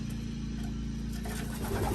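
Pigeons coo at a racing loft as birds return from a 100-mile young-bird race from Northwood, a low, soft, continuous throaty murmuring close by, steady and without talk.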